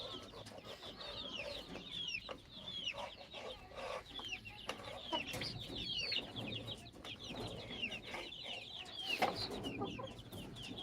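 Free-range village chickens clucking and calling in a continuous overlapping chorus, close and moderately loud, with scattered higher squawks over a faint ambient background.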